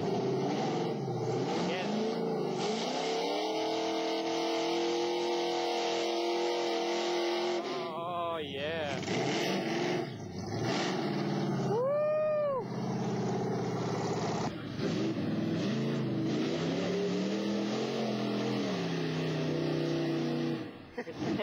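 Bog vehicle engine running with the muffler removed, a loud raw roar that rises and falls with revving, close by, with brief voices talking over it.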